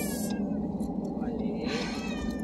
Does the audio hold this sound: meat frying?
no